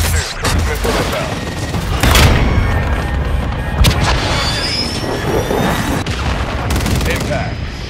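A cruise missile strike in Call of Duty: Modern Warfare II, with loud, sustained rumbling blasts and crackling fire that fill the whole stretch without a break.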